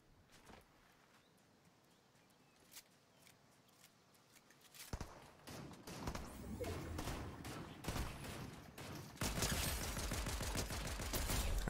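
Rapid bursts of gunfire from a roleplay server shooter game, quiet scattered shots at first, then dense, loud volleys that build toward the end.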